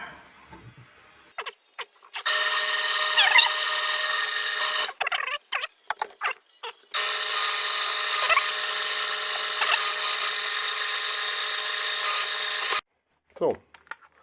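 A power drill bores a hole during repair of a BF25 milling machine with a broken spindle, whining in two long sustained bursts with short gaps, clicks and handling noises between them, followed by a brief squeak at the end.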